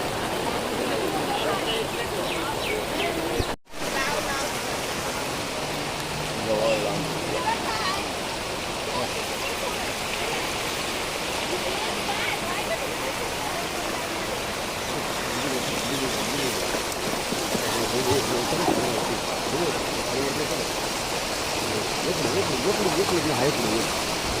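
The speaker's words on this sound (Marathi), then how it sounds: "हे तुम्ही बघू शकता यासाठी पावसाने रुद्ररूप धरलं आहे" Heavy monsoon rain pours down while floodwater rushes along, making a dense, steady roar throughout with a single brief dropout early on; voices sound faintly beneath the downpour.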